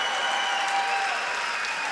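A girls' regional final basketball crowd applauds steadily through a trophy presentation, a dense, even wash of clapping heard from within the gym.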